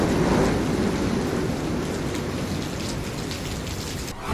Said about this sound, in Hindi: ओडिशा, पश्चिम बंगाल के कई हिस्सों में बारिश और तेज हवाएं भी शुरू हो गई हैं